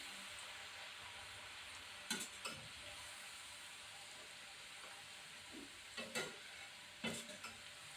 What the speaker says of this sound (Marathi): छान असं डीप फ्राय म्हणजे तळून घ्यायचं